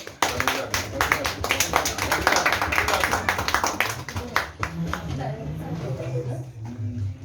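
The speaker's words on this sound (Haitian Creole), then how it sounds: "On va demander un applaudissement chaudement, Dylan." A group claps for Dylan at a gathering, brisk close applause that thins out after a few seconds as voices murmur underneath.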